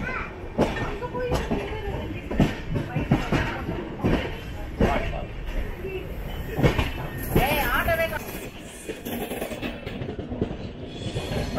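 The 06053 Onam Special passenger train from Tambaram to Ernakulam rolls near Chennai Beach station with a rhythmic clickety-clack of wheels and a steady rumble, heard from on board with voices talking over it.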